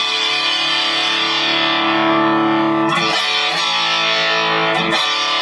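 An electric guitar played through the distortion setting of a Line 6 M9 effects unit rings out in thick, fuzzy sustained chords, with a couple of sharp restrikes near the end.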